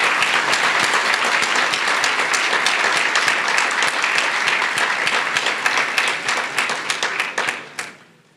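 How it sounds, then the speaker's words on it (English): Sustained applause from a large banquet crowd at a cattlemen's association awards dinner, loud and steady with dense clapping for about seven seconds before tapering off and ending. "Let's please give a round of applause to all of them."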